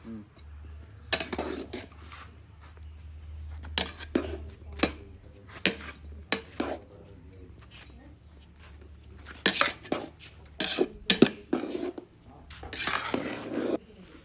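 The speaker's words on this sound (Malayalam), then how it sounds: "ചെറിയ ചട്ടുകം വേണം എന്നാലേ നമുക്ക് കറക്റ്റായിട്ട് അതെ ഒന്ന് ഇളക്കി കൊടുക്കാം" Ghee rice stirred with a small spatula in a pot, giving scattered scraping knocks and clinks against the metal in uneven bursts, fairly quiet, with people talking in between.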